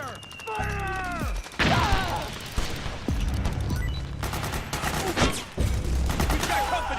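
Bursts of automatic gunfire and sharp single shots crack out in Metal Gear Solid 4 amid a chaotic battle, with loud impacts, a falling whine and shouted voices mixed in.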